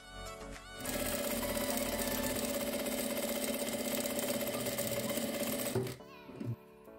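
A sewing machine runs fast and steady for about five seconds, stitching a 1 cm seam along two faced-together layers of a table runner napkin, with brief clicks of handling before and after the loud whirring motor.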